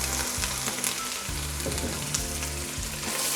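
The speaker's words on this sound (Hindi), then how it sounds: "अदरक लहसुन फ्राई हो गया है।" Ginger, garlic and green chili paste sizzling steadily in oil with browned onions, a dense continuous fry close up with faint stirring scrapes throughout.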